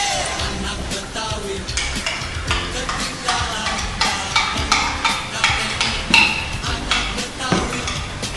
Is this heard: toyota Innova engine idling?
no